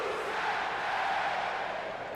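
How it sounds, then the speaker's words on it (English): Arena crowd in the WWE 2K19 wrestling video game, a steady, faint roar of many voices cheering, with no distinct chant rhythm standing out and no one talking over it. "So the crowd is absolutely going nuts right now."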